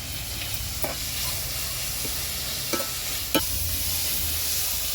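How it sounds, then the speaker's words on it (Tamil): Tomatoes sauté in a hot pan with a light dusting of turmeric, giving a loud, steady sizzle. A few faint clinks and scrapes from stirring rise over it. "தக்காளி போட்டு நல்லா வதக்கிக்கலாம்"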